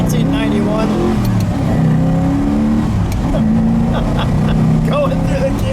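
A red 1991 De Tomaso Pantera 90 Si driving, its engine loud and close, pulling up through the gears with rising revs that drop at each shift, with voices faintly under the engine noise.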